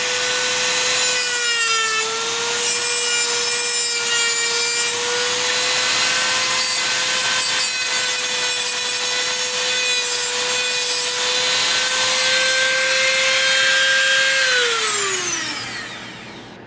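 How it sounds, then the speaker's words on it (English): Rotary tool with a fresh cutting wheel trimming a KR pixel stick for a custom Star Wars lightsaber, a loud continuous high whine and grinding that holds steady for many seconds, then winds down in pitch as the wheel stops. "Now it helps if you have a fresh cutting wheel."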